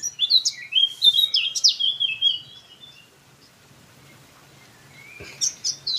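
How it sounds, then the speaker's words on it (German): Small birds chirp and twitter outdoors in quick, high, sweeping bursts, bright and fairly close, fading into a quiet pause before a few more calls return. "Die Vögel zwitschern."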